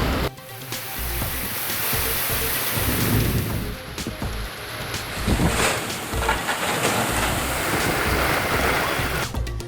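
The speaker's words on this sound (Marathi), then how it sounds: "विजांचा लखलखाट आणि ढगांच्या गडगडाटासह धडकी भरवणारा पाऊस" Heavy rain pours steadily over Mumbai while deep thunder rumbles and rolls, loud and close, with no voices.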